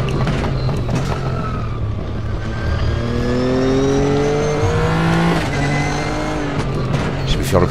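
Race car engine droning through a lap in the sim racing game RaceRoom Racing Experience, with rising and falling harmonic sweeps as it revs through gears, loud and continuous.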